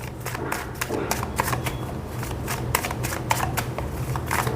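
Tarot cards are shuffled close by in a rapid run of crisp riffling flicks that repeat steadily throughout, with faint room noise underneath and no talk.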